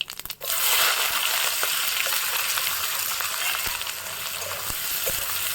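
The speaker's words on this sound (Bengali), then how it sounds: "পেঁয়াজটা খুব লাল লাল করে ভাজবো।" Chopped onions fry in hot oil with whole cumin and dried red chili for a jackfruit-and-prawn curry, giving a loud, steady, close crackling sizzle with scattered sharp pops throughout.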